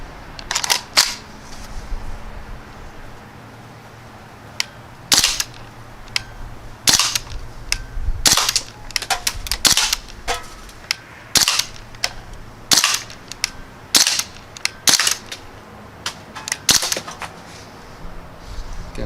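Crosman Panther Arms DPMS BB rifle fired outdoors in a quick, irregular string of sharp, loud snapping shots, some closely paired, over a faint steady background hum.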